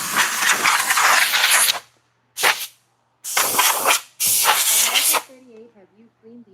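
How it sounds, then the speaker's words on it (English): A spray can hissing in several bursts in a garage: a long spray, a short one, then two more long blasts, loud and close, with faint tones trailing after. "Let's get this thing sprayed."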